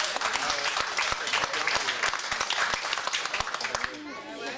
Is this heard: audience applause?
yes